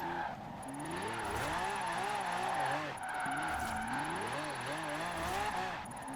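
A Lamborghini Aventador J slides sideways in a drift in Forza Horizon 4, its engine note wavering up and down over a continuous tire squeal, loud and steady throughout with brief dips.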